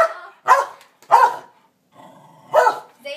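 A dog barks three sharp times in short bursts, spaced about half a second to a second apart, close and fairly loud, with a brief lower yelp at the end and no talking.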